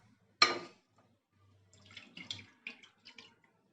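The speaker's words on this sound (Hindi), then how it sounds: "एक बर्तन में 1 गिलास पानी डालेंगे।" Water poured from a glass into a cooking pot while making a home remedy drink for cough and cold, a sharp splash followed by a few short gurgling pours, close and fairly quiet.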